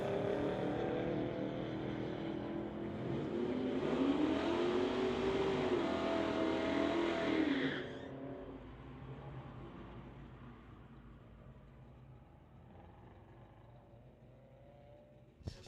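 A 2011 BMW drag car at a street-legal drag strip event accelerates away with a loud rising engine roar. It fades into the distance after about eight seconds, leaving a faint low rumble.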